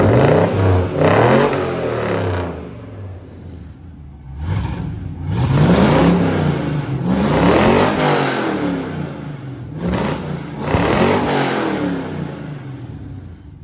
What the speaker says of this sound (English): Then a clip with the car running.